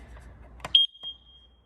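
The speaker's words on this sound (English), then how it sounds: "Notice that it does the fault test, the operation test, and goes to alarm." Kidde 10-year carbon monoxide alarm running its self-test, with a brief click and rattle followed by a single sharp, loud high-pitched beep that trails off into a long, thin steady tone.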